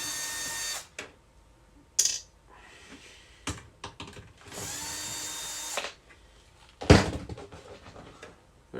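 Power screwdriver backing screws out of the bottom panel of a Sony HCD-HP7 five-disc CD changer, heard as several whirring bursts of varying length separated by pauses, close and fairly loud, with clicks and handling knocks between them.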